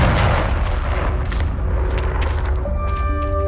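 A Confringo fire spell bursts in the video game Hogwarts Legacy, a loud, dense blast of booming, gunfire-like cracks and rumbling that fills the whole stretch, with faint musical tones creeping in near the end.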